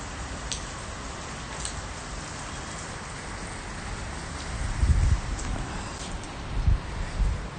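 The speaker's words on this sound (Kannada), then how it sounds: "ನೋಡಿ ಮಳೆ ಬಂದಿದೆ ಹೋಯ್ತಾ ಇದೆ" Steady rain falls around a taxi on a city road, a dense, even wash of patter with slightly heavier gusts late on and no voices.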